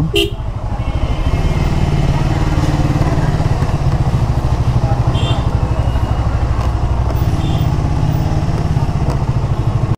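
A motorcycle engine idles with a steady, throbbing rumble throughout, close by, while being parked at a busy village market in Bogura, Bangladesh, with faint background activity and brief higher-pitched sounds over it.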